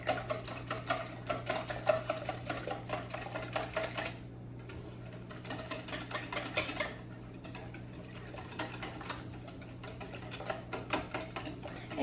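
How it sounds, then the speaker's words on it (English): A hot sauce mixture for spicy cauliflower wings being whisked fast in a bowl, a steady close rapid ticking and clattering of the whisk that pauses briefly twice before resuming. "So I'm just whisking this up real fast."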